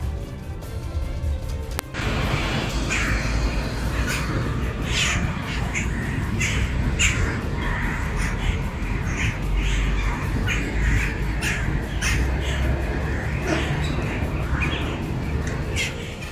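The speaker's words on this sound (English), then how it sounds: "A large number of starlings flooded into Tianjin on October 30th, 2023." A large flock of starlings migrating into Tianjin fills a city street with dense, continuous harsh squawking and chattering calls, loud and close, with traffic noise beneath.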